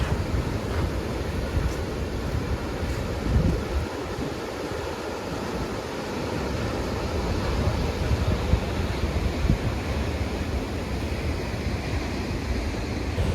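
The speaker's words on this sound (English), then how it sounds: "Yeah, the waves are big here." Big ocean waves along the Kapalua Trail crash and wash continuously, a dense roar of surf mixed with wind gusting against the microphone.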